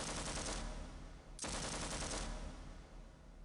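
Tank cannon fire in a video game, a loud dense burst of rapid gunfire from a single barrel that stops for a split second and then resumes just as intense, with no talk.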